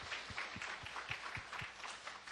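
A church congregation applauding during a Sunday worship service, a steady wash of many hands clapping together with a faint rhythmic beat, held at an even level and heard from within the room.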